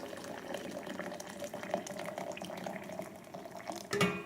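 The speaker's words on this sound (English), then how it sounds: "So I'll just take a little bit of boiling water and I'll just fill this up" Boiling water poured from a kettle into the glass vessel of an Ardito French press, a steady trickling, gurgling flow at close range, ending with a brief clink of the pot.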